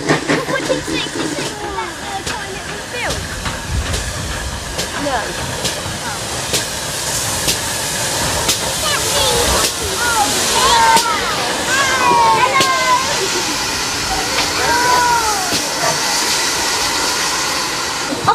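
A steam train hisses and rumbles as it pulls in, with squealing wheels and clanks, while people chatter throughout.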